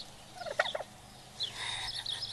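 A female turkey at an animal sanctuary gobbles in a few soft, quick bursts, then gives a longer run of higher chirping calls, close by and fairly quiet.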